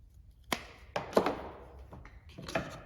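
Scissors cutting plastic tubing during brake master cylinder bleeding on a GM truck, heard as a few crisp, close clicks and snips spaced irregularly over a quiet background.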